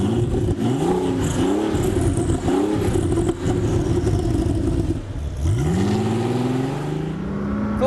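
A Volkswagen Golf GTI W12-650 with a twin-turbo W12 engine revs loudly and close on a former airfield, several rising and falling throttle blips ending in a long climbing rev, with no talking.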